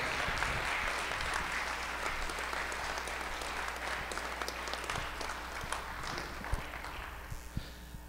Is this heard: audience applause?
yes